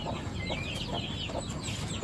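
A young chick with a congenitally curled toe peeps in thin, high chirps while its leg is held for taping, the cheeps faint and repeated over a broad, constant background hiss.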